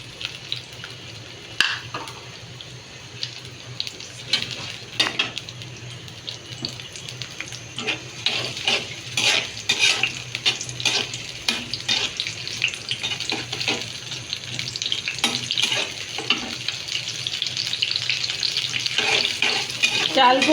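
Onions and a bay leaf fry in a pan and sizzle loudly and close, building over time, with stirring scrapes and splashy, watery crackles mixed in. No speech is heard.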